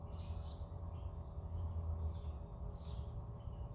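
Faint, distant birdsong outdoors near a farm field, a few thin chirps rising above a steady low hum of a far-off pump.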